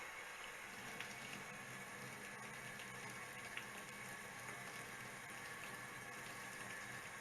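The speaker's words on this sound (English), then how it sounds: "I am just getting a nice, refreshing glass of water out of the sink." A steady, faint stream of water runs from a sink tap into a glass, a soft continuous hiss with no talking.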